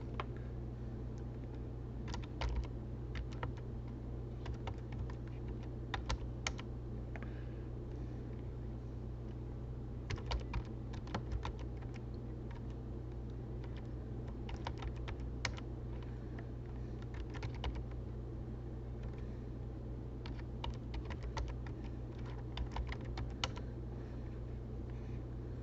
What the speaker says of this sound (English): I'm simply going to type the various categories of expenses that I had.